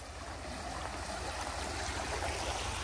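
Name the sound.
small mountain stream flowing by a campsite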